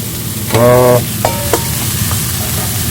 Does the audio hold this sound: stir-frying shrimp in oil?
yes